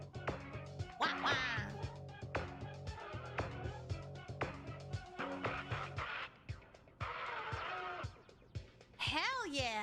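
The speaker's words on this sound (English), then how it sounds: "that noise is supposed to be the evil ducks." Quacking duck calls standing for evil ducks, set inside a rhythmic video game music track, repeating over a steady beat and melody with a rising whistle-like sweep near the end.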